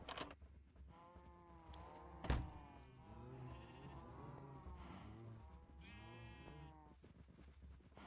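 Cows in a modded Minecraft world moo repeatedly, several overlapping low, drawn-out calls from a large herd, faint and without talking.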